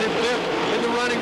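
Stock race cars at a 1998 late-model feature at West Virginia Motor Speedway roar through the turns, a loud steady engine whine with shifting pitch, heard beneath a race announcer's commentary.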